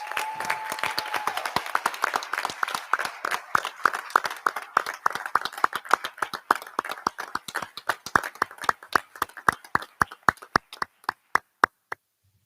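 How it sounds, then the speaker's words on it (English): Applause at a college opening meeting starts dense and lively, then thins into fewer, slower individual claps that die out near the end. "Could we give Jermaine a round of applause?"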